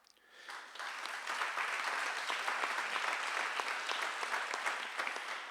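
An audience at a recognition ceremony for a medical professions center breaks into applause, rising quickly to a full, sustained clapping from many hands in a room.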